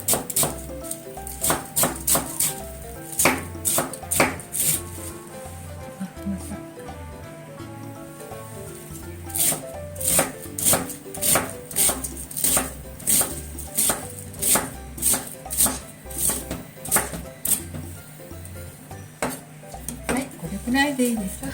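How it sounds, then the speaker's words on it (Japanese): A knife rapidly shreds cabbage on a cutting board for mochi okonomiyaki, with steady bursts of close, crisp chops broken by short pauses and a few clinks of kitchen utensils. "キャベツをね、ちょっとだけ切って千切りにします。"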